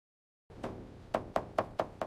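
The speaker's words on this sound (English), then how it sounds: "Teni knocked on the gate, expecting a weary landlord to answer." Knocking on a gate: a single knock, a pause, then four firm evenly spaced raps, close and solid with a hollow ring, with no voices.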